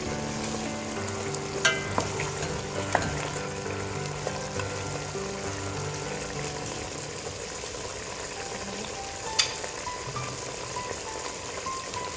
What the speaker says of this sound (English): Cook on medium heat and mix well until the sauce starts to boil